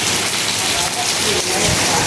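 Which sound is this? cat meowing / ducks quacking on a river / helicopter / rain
rain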